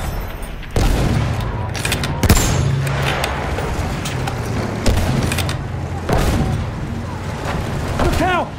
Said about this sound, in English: Look out! Machine gun!